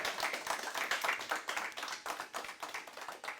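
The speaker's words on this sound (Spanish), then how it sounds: "Denle un aplauso a Cristo" Church congregation claps during a sermon by Pastor Miguel Guerra, a fairly faint, rhythmic patter of many hands with an uneven pulse, no voices over it.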